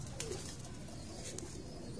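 Pigeons on a rooftop coo softly with a few faint calls and brief fluttering, set against a low steady background hum.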